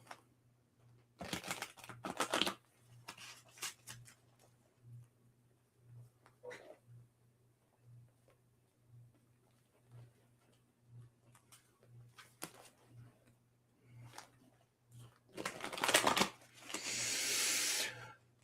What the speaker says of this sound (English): Let me get a nice shuffle.